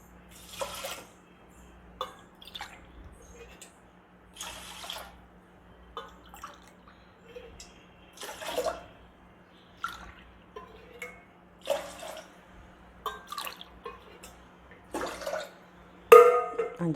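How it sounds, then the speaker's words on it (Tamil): Glass after glass of water is poured into a pot for urad dal kanji, several separate short splashing pours spaced a second or two apart, close and moderately loud over a low steady hum, with no talking. "அஞ்சு கிளாஸ் தண்ணி விட்டாச்சு."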